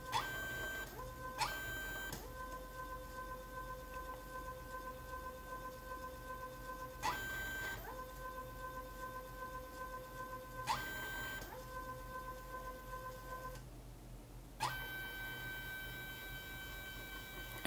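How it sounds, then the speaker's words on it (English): A DIY micro filling machine for medicine, serum and scent runs its liquid pump with a steady whirring drone, punctuated by short mechanical bursts at intervals and a brief quiet gap near the end, faint and without speech. "as you can see we can control the speed of the liquid pump."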